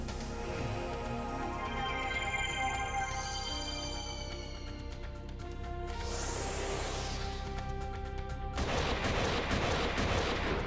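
Gatling gun fire in the video game Wild Arms 3, a steady stream of rapid shots running the whole time over a busy backdrop of game music, with a bright burst midway and dense, loud fire toward the end.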